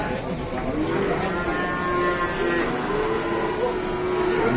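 A short-legged black cow lets out a long, drawn-out moo over steady background noise, with a vehicle rumbling faintly nearby.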